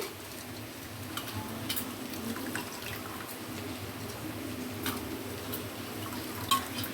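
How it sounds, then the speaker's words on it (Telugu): Poha being rinsed in water and drained, heard as a steady wash of running, splashing water with small drips and occasional clinks, continuous and fairly close without any talk. "కడిగి వాటర్ లేకుండా తీసుకోవాలి"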